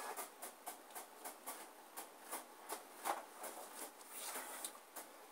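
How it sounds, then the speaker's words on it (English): Printer in a home room where a gaming PC is being built, running through a print job as a faint, regular series of short mechanical passes and clicks, about two each second. "My printer's printing something."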